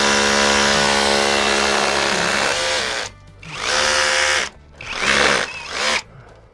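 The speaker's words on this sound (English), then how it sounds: "Little battery powered little jackhammer." Small battery-powered jackhammer breaking quartz from a mine vein, a loud buzzing hammering run held for about three seconds, then several shorter bursts with brief pauses between.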